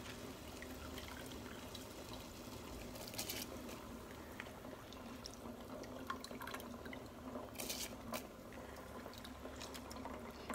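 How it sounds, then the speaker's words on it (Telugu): A pot of water boils at a rolling boil for prawn dum biryani before the basmati rice goes in, a steady close bubbling and rushing wash with occasional louder splashes, continuous and alone. "వాటర్ బాగా బాయిల్ అయిపోతుంది."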